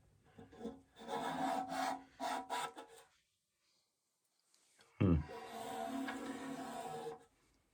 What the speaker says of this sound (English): I got a little wet rag here. I gotta get this, a little bit of residue out of the corner.